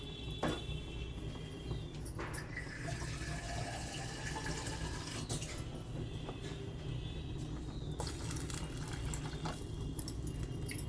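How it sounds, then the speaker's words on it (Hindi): Water from a large mug poured into a cooking pot while making raw mango gudamba, a steady running splash for about eleven seconds with slight shifts in flow, no talking. "तो हमने एक बड़ा वाला जो मग होता है ना, वो भर के पानी डाला है।"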